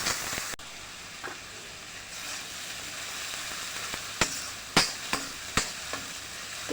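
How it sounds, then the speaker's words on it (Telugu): Chopped onions sizzling in a pan, a continuous gentle frying hiss with occasional sharp spoon taps and scrapes, growing more frequent toward the end. "ఇది గోల్డెన్ బ్రౌన్ వచ్చేంత వరకు వేగించాలి."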